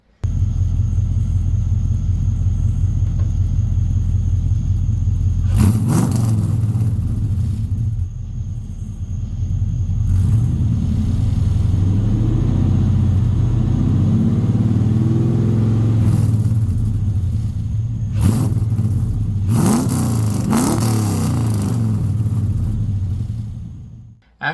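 A deep, throaty S10 truck engine rumbles steadily through a custom exhaust, with a couple of sharp revs rising and falling, loud and close by.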